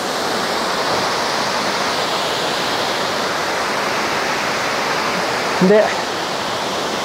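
A large waterfall in Yokoya Gorge, Nagano, Japan, roars steadily and loudly without pause, with a brief spoken syllable close by near the end.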